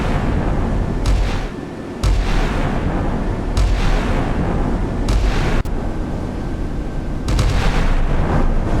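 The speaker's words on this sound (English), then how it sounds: "5-inch guns firing." Big 5-inch naval guns boom several times at irregular intervals in the video game Sea Power, each loud blast trailing off into rolling echo over a constant low battle rumble.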